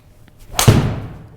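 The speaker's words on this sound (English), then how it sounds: "That's a normal off the ground 3-wood shot for me" A golf ball struck off the ground with a Cobra 3-wood fairway wood during a club fitting, a single sharp impact followed by a brief airy whoosh as the shot flies off.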